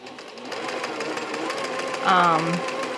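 A large sewing machine stitches with a steady, fast mechanical whir and rhythmic chatter, running continuously and close up with a 90/14 needle sewing thread at reduced tension.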